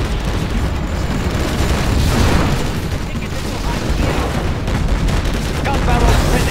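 Dense, continuous gunfire and booming explosions from a skirmish battle in C&C Generals Zero Hour, Gatling cannon fire among them, loud and sustained throughout with game voices mixed in.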